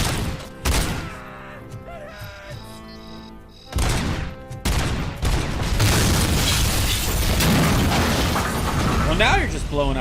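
Explosions and gunfire in the RoboCop: Rogue City video game: heavy booming bursts break out, then build into a sustained, chaotic barrage of blasts and rattling debris that fills the rest of the scene.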